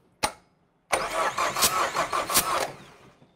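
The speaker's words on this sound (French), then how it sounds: "Recoup de démarreur." Starter motor cranking an engine in a pressure-test setup with a simulated partially clogged filter: a short sharp burst, a pause, then about two seconds of loud rhythmic cranking with repeated surges before cutting off.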